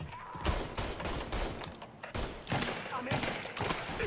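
Rifle fire in the Mafia 3 video game, several sharp shots spaced irregularly across a busy, loud combat mix, with a voice briefly underneath.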